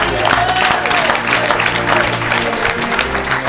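A church congregation breaks into loud, sustained applause that fills the space evenly, with crowd voices mixed into the clapping throughout.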